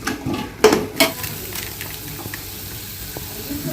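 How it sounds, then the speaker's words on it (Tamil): Vegetable biryani masala is stirred in a pan, giving a couple of sharp scraping clanks followed by a soft, quieter sizzle and light scraping. "இப்போ கிளறி விடுங்க. நல்லா மிக்ஸ் ஆகணும், அதளவு கிளறி விடுங்க."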